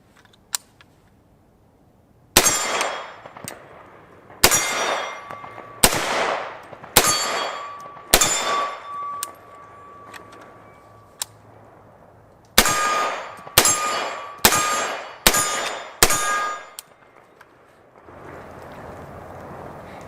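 An AR-style pistol fired at steel targets outdoors, with sharp shots each followed by a ringing metallic clang, coming in two strings of spaced rounds and then a faster run of hits, loud and with no talk.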